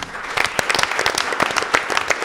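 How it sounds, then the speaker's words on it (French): Loud, dense audience applause at a Miss RDCongo pageant show, a steady rattle of many hands clapping with sharp individual claps standing out throughout. "applaudissements nourris pour Jean-Pierre Lézy"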